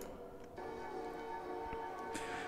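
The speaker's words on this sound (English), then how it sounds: "Follow the sound of the bell." A ringing bell in the game Betrayer, a sustained tonal chime heard faintly in a quiet ambient scene, with soft ticking accents and a brighter strike near the end.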